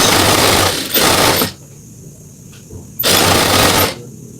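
A sewing machine stitches 100% cotton tricoline fabric in loud, close bursts: a short run, a longer run, a pause, then another sustained run, with no talking.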